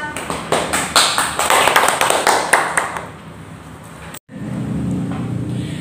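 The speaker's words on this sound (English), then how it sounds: "Give applause." Brisk clapping at an online seminar, a run of sharp, close claps for about three seconds before thinning out, followed by a brief dropout and a steady background hum.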